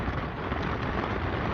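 Steady, dense rain pours down during a thunderstorm at a camp site, a continuous broadband hiss that holds even and fairly loud throughout, with no voices.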